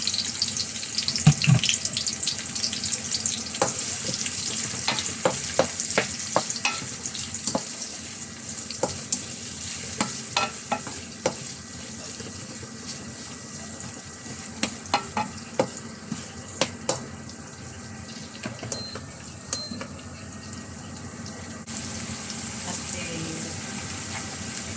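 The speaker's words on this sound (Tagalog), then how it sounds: "Gigisa na tayo guys. Lagay natin yung sibuyas." Onion and garlic sautéing in a pan for a Filipino stir-fried glass noodle dish, a steady sizzle with scattered stirring clicks and scrapes throughout, fairly close and continuous with no voices.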